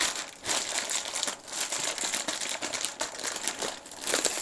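Packaging bag around an Atari VCS console being pulled and torn open up close, with continuous crinkling plastic rustles and a few sharper crackling bursts, moderately loud.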